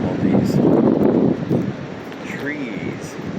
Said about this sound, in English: Never been out here in the middle of a windstorm.